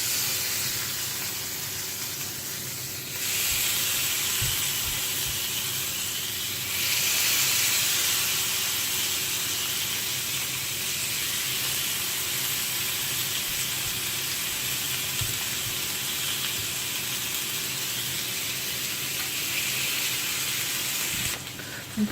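Skewers cook in a hot thick-bottomed frying pan, giving a steady, close hiss of sizzling and steam that swells a little after a few seconds and runs on evenly with no talking.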